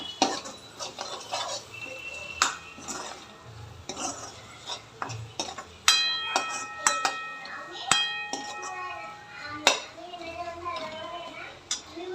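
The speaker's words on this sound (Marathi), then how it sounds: "आता ह्या मसाल्याला थोडंसं तेल सुटलं पाहिजे तोपर्यंत आपण हे व्यवस्थित परतून घेऊया" Masala spices sautéed in oil in a pan while cooking usal, with a spoon stirring and scraping against the metal, clinks, and a soft sizzle underneath, as someone talks over the cooking.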